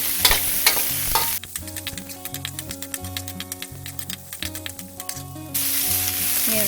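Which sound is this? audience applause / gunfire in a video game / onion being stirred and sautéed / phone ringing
onion being stirred and sautéed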